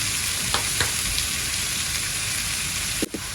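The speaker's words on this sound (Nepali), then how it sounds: "चलाएर मजाले फ्राई हुन दिने" Boiled potatoes with cumin frying in a pan, a continuous close sizzle with a few soft scrapes of stirring and a brief clatter near the end.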